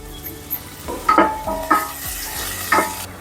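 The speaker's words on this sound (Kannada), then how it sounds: "ಇವಾಗ ತುಪ್ಪ ಕಾದಿದೆ ನೋಡಿ, ಒಂದು ಅರ್ಧ ಈರುಳ್ಳಿ ಹೆಚ್ಚಿಟ್ಕೊಂಡಿದ್ದೆ, ಅದನ್ನ ಹುರ್ಕೊಂಡ್ಬಿಡ್ತೀನಿ ಒಂದ್ಸಲ." Chopped onion hits hot ghee in a pan, giving a soft sizzle with several scraping stirs in a short, close burst, no voices.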